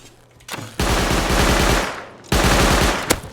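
Gunfire in the survival game Rust comes as two loud, close bursts of rapid automatic shots separated by a brief lull, with a few faint clicks around them and no talking.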